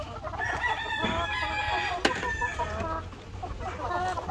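Chickens keep up a steady clucking in a laying flock of egg-producing hens, with a rooster crowing partway through, all fairly close and continuous over a low farmyard hum.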